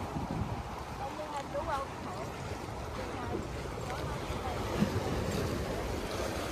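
Waves lap at a lake shore in Charles Daley Park, Ontario, with gusting wind rumbling across the microphone; a continuous, moderately loud wash with faint voices in the background.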